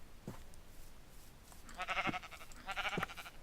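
Two short, wavering bleats from a sheep in Minecraft, close and fairly clear, over a quiet background with soft thuds.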